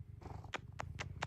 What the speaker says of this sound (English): hear him purring?